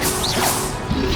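Expelliarmus spell cast in Hogwarts Legacy, a loud, brief whooshing crack of magic with a sharp swish and impact, dense and close.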